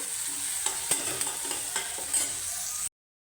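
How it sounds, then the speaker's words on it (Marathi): Tempering of crushed peanuts and soaked chana dal stir-fried in a pan, a steady close sizzle with repeated scraping strokes of a spatula, with no talking. "हे सगळं असं व्यवस्थित परतवून घ्यायचं"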